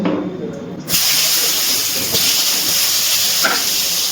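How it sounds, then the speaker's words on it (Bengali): Sliced pointed gourd (potol) hits hot oil in a pan and a loud, steady sizzling hiss rises suddenly, holding bright and continuous after a quieter moment. "এবারে এই তেলের মধ্যে আমি পটলগুলো ভেজে নেব"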